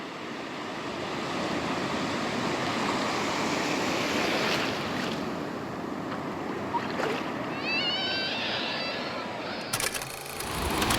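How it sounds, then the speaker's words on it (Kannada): Sea waves washing on a beach: a steady broad rush of surf and wind throughout, with a brief clatter and a burst of noise near the end. "ಈ ಅಲೆಗಳ ಸದ್ದು ಕೇಳ್ತಾ ಇದ್ರ"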